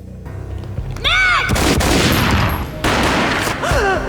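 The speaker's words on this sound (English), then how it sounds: "A gunshot boomed and she fell down in slow motion." Gunfire in the video game Max Payne, with several loud, close booming shots that ring out in bursts, mixed with brief game voice sounds and sustained echoing noise.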